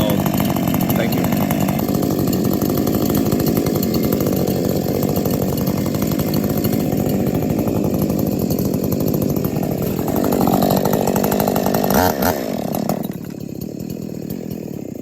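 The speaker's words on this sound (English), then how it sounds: "Warm up your chainsaws." Two 50cc Husqvarna chainsaws warm up, running loud and close in a continuous buzzing drone. The engine note shifts, then drops off near the end as the saws stall. Voices come through faintly underneath.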